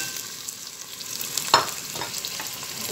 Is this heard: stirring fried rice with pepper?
yes